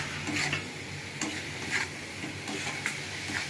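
A spice paste for tangra fish curry, with a splash of water and torn green chillies, is sautéed in a pan. Rhythmic scraping stir strokes sound about every half second over a steady sizzle, close up and without talk.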